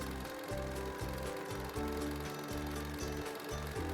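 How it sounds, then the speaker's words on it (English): Sewing machine stitching a signature onto a quilt, a close, steady mechanical chatter with quick rhythmic pulses and brief stops as the stitching changes direction. "And now I'm going to stitch my signature."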